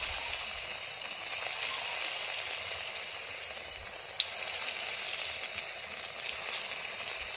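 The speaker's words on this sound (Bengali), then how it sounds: "আমার তেলটা গরম হয়ে গেছে। আমি এবারে চিকেনগুলোকে এইভাবে ছেড়ে দিচ্ছি।" Steady, loud sizzling of chicken frying in hot oil, a continuous crackling hiss with one sharp pop midway, no voices.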